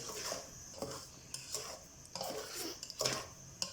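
A utensil stirs sugar into dried plum chutney in a pan, giving quiet scraping strokes in an uneven rhythm, about six or seven sweeps with small clinks against the pan and a faint sizzle beneath.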